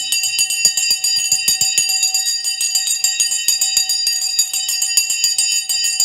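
The stock market opening bell rings continuously and loudly, a bright sustained metallic clanging with rapid repeated strikes throughout, heard alone without voices.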